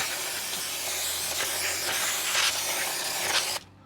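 Brake cleaner hisses from an aerosol can onto greasy Toyota Tundra axle parts in one steady, close, loud spray that runs for about three and a half seconds and then cuts off abruptly.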